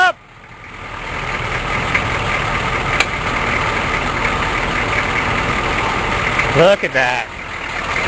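A K5 Blazer truck engine cranks and settles into a steady, loud idle that runs throughout, with a brief clatter near the end and someone speaking briefly.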